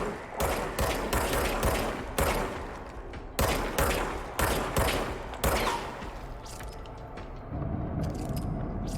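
Rapid gunfire from a weapon in the game Control, a string of loud close shots in quick bursts and single cracks, easing off toward the end.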